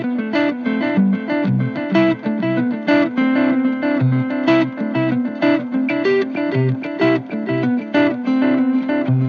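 An electric guitar plays a repeating riff through a tape echo delay pedal, distorted and echoing, with notes trailing into one another.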